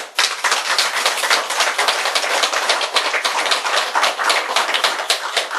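An audience at a Buddhist sermon applauds, a steady dense crowd clapping, loud and close, running without pause for several seconds.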